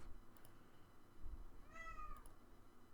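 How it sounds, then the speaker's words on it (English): House cat at home during a live stream, giving a single clear meow partway through, fairly faint and close against a quiet room hum. "that's my cat."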